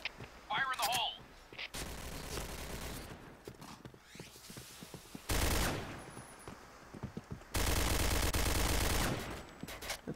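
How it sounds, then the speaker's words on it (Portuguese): Gunfire in the shooter game Point Blank: several loud bursts of automatic fire, close and harsh, alternating with quieter gaps, while someone speaks over parts of it. "Tô atirando meio na cega aqui agora."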